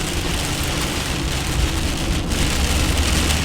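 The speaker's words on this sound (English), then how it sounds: "Downpour over here" Heavy rain downpour drums steadily and loudly on a truck, a dense continuous wash of noise with no let-up and no voices.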